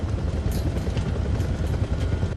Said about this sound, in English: This is not a helicopter I see Frank going in